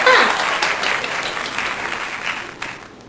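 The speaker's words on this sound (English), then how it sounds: "Let's give yourself a clap." A small group gives a quick round of clapping during a children's circle-time lesson, with a dense burst of claps at first that thins out over about three seconds.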